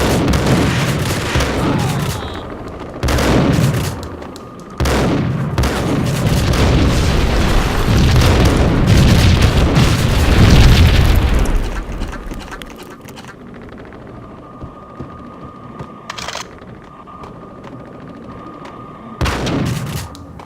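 Heavy gunfire and explosions from Max Payne, with booming blasts and dense bursts of shots stacked together for about twelve seconds before things drop to a quieter hum broken by a few sharp hits.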